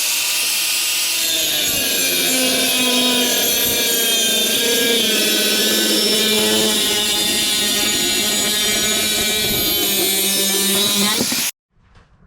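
A metal plate is cut to size for a fishing rod storage rack on a Quintrex 460 Renegade boat. The cutting makes a loud, sustained, whining grind close by that holds steady for about eleven seconds, then stops abruptly.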